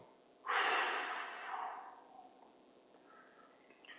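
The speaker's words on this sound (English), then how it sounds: "Take this breath and squeeze both of them together. And as you squeeze both parts of you together, breathe out." A single long exhale during a breathing exercise, loud and close, a rushing, breathy burst that fades gradually over about a second and a half into quiet room tone, with no talking.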